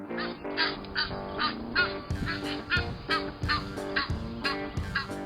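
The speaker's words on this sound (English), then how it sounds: "these birds are called Egyptian geese and are very protective of their young" Repeated loud Egyptian goose honks in an irregular series, several birds calling close by with harsh nasal blasts and no talking.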